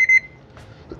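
A Vivo V21e 5G smartphone gives a single short, bright electronic beep as it powers on, followed by quiet faint handling noise.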